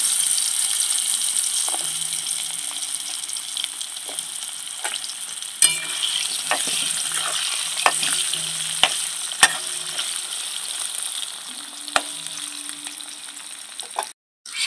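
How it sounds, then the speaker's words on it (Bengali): Potatoes frying in oil with spices crackle and sizzle continuously in a pan, punctuated by repeated clinks and scrapes of a stirring utensil, ending with a sudden cut to quiet. "আলুগুলো একটু লাল করে ভেজে নেব"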